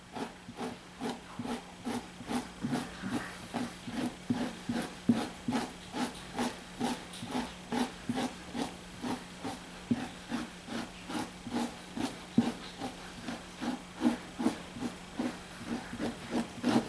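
A fleshing tool scraping fat off an otter pelt, giving steady rhythmic back-and-forth rasping strokes at about two per second, close and fairly quiet, with no speech.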